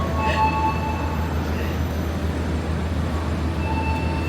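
Constant rumbling noise fills a busy Javanese train station around the Argo Wilis train, with a steady low drone and faint high squeals of rail wheels, no talk over it.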